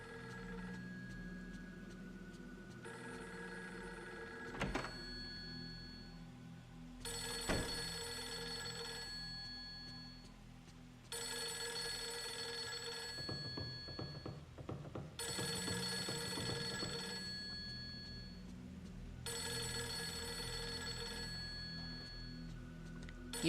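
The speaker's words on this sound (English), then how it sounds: "Even if the phone's really annoying." A telephone in Fatal Frame 3 rings over and over in evenly spaced bursts, each lasting a few seconds with short gaps between them. The rings are loud and clear over a low, steady background hum.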